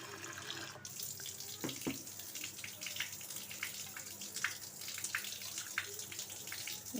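Food is rinsed by hand under a running kitchen tap, a steady quiet stream of water with soft splashes and light knocks against the sink, heard from close by with no talk.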